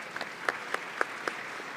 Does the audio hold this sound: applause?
yes